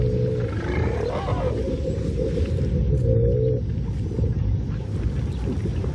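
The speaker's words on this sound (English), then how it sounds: "the sounds of low-frequency elephant calls" Low rumbling elephant calls recorded in Etosha, with a couple of tonal, wavering calls over a dense, continuous low drone and rustling background, fairly loud and without speech.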